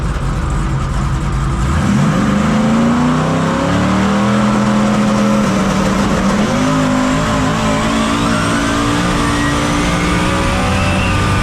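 A 4x4 NASCAR-style drag truck engine roars loudly through a run, its pitch climbing and holding high in a sustained, close, continuous blare.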